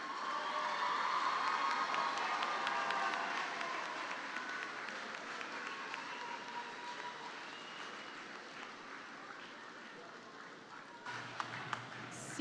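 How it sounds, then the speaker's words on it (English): A large audience at a 2023 high school graduation ceremony applauding the graduates, a broad wash of sustained clapping with cheers mixed in, fading gradually over the stretch with some voices heard. "Let's give all our graduates a huge round of applause."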